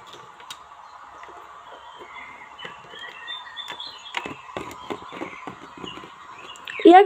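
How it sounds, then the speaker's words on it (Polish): Birds call in a park, with harsh cawing and scattered chirps at moderate distance, while people talk nearby and a sharper call rises near the end. "Ptaszki pięknie ćwierkają."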